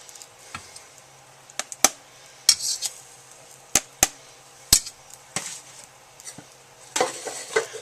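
Cooked bacon is lifted out of a greasy pan, with sharp metallic clinks and taps of a utensil against the pan, several distinct hits spaced irregularly over low background sizzle.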